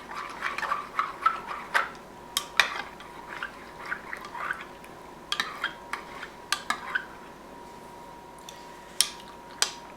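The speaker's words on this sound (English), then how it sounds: "I'm simply going to stir this together so that the soap has melted into the boiling water." A spoon stirring grated soap into boiling water in a cooking pot, giving irregular metallic clinks and scrapes against the pot with faint liquid sloshing between them, no talking.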